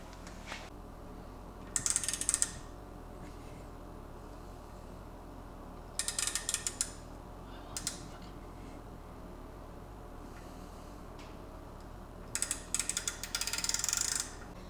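Tap and die set cutting threads by hand on a 2JZ engine part, lubricated, giving short bursts of ratcheting clicks at intervals over a quiet background.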